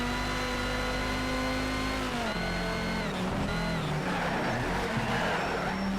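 A race car in Need for Speed Shift 2: Unleashed revs hard and drops through gears, its engine whine sliding down as tyres screech and skid under the drift, loud and close throughout.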